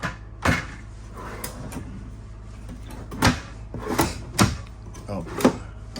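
Shallow kitchen drawers in a 2014 Forest River Berkshire 400BH RV slide open and shut with several sharp clacks and knocks, moderately close, over a quiet room background.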